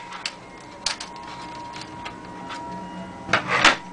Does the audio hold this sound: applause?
no